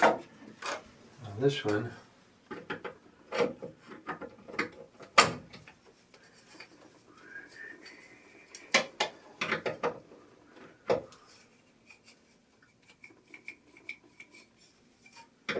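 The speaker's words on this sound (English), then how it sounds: "Remove this screw." A screw is being removed from a cartridge valve on the hot side, with a sequence of sharp metallic clicks and ratcheting taps spaced irregularly and a brief spoken phrase among them.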